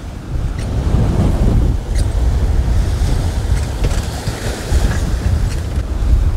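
A sailboat caught in a North Sea winter storm, with wind howling in a constant loud roar and waves breaking heavily around the hull. Dense, unbroken noise fills the whole stretch, with no voices.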